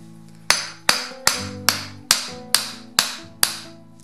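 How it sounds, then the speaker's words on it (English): Eight sharp, evenly spaced hammer blows ring out on a steel gauntlet finger plate as it is bent over an edge. Each strike is loud and close, with a bright metallic ring. No one speaks. "When you're hammering, try to get the hammer impact close to this edge so that it bends right on the edge"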